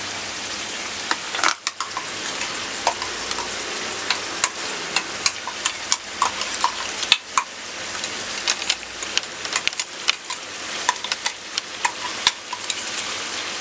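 Chicken curry in a pan, with ginger-garlic paste and wet masala being stirred in. Steady scraping and stirring rasps sit over a soft sizzle, with sharp utensil clinks at irregular intervals and no voices.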